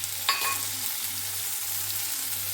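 Steady sizzling of carrots frying in a hot pan, with a brief clatter near the start and a low hum underneath.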